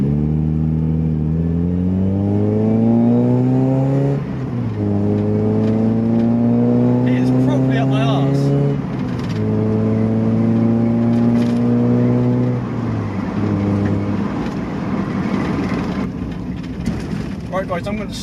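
Mazda MX5 driving on a road with its engine revving up through the gears, pitch rising repeatedly then dropping at each shift, loud and close inside the car with road and wind noise.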